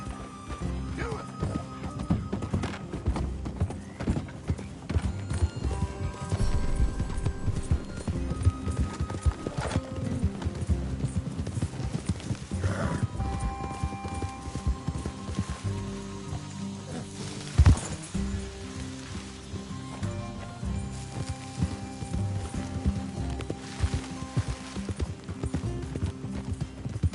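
Horses trot in Red Dead Redemption 2, their hooves clip-clopping in a steady rhythm over a long stretch, with occasional whinnies and characters talking over the hoofbeats.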